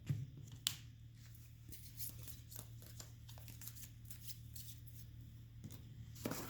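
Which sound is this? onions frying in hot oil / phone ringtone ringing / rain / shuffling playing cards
shuffling playing cards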